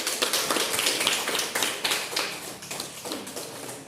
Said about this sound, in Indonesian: Oke, tepuk tangan untuk.